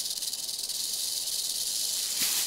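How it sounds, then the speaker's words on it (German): A rattlesnake shakes its rattle, a continuous high, buzzing hiss that holds steady and fairly loud throughout, with no voices. "Das Eichhörnchen hört auf die Rassel."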